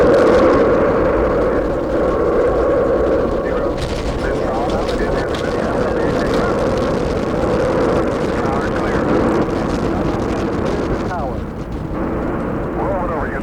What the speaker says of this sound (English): We are go for main engine ignition. 8, 7, 6. We have main engine ignition.